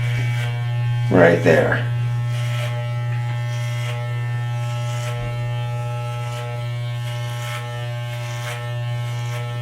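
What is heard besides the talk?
electric hair clippers buzzing while cutting hair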